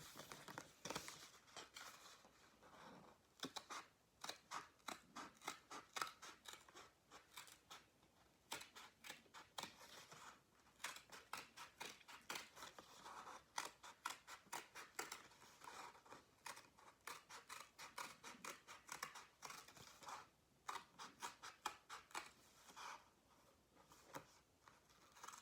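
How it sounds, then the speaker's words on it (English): Scissors snip steadily around a paper circle for a wreath craft, a close, dense run of crisp cuts and paper rustles with brief pauses, and no talking. "And then now I'm cutting around the circle."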